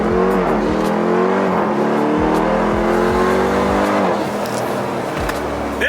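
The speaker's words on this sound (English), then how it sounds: "I'm about to show this guy how to launch a Durango." A Dodge Durango Hellcat SUV launches hard, its engine revving loudly with rising and falling roars and sharp blips close by, with no talking.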